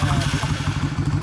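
A Honda Steed 400 cc motorcycle engine runs close by in a steady, throbbing idle with a low, lumpy pulse.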